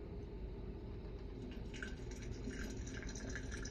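Arabic coffee (gawa) pours from a kettle in a soft, steady liquid trickle, faint and continuous throughout, with no talking.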